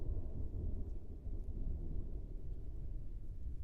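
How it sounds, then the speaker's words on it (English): Steady rain with a low, continuous thunder rumble fills the scene, dense and fairly loud, during a storm in northwestern Illinois. "yeah, it's a lot of rain and thunder."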